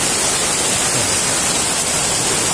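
A flooded river in Dandagaun rushes in a loud, dense, unbroken roar of noise with no voices over it.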